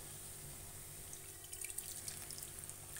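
Tamarind water trickles and splashes softly as it is poured into a simmering pan of drumstick leaf gravy, a faint, steady liquid pour with light splatters.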